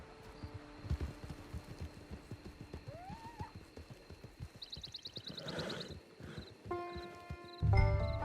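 A horse in the Red Dead Redemption 2 online game clops along with steady hoof beats near a camp, the plodding rhythm continuing under soft ambient game sounds, a brief whinny-like call and some chiming interface tones toward the end.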